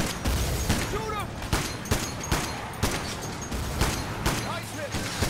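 Gunfire during an armored-truck heist in the video game Payday: The Heist, with repeated sharp shots and bursts over a busy, noisy backdrop and some voices.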